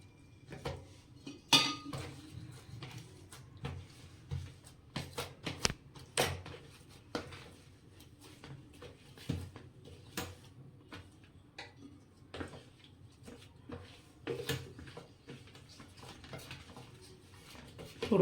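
Warm rice-flour dough for green pea snack patties being worked with a metal spatula in a pot, giving repeated clinks and scrapes of metal on the vessel at an irregular pace, fairly quiet and close.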